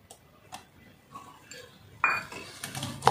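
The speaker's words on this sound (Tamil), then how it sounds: "இதையும் நல்லா இப்போ மிக்ஸ் பண்ணிடலாம்." Omelette egg mixture with chopped tomato being mixed in a bowl, faint clinks and scrapes of a utensil at first, then a louder burst of rapid clattering toward the end, with no talking.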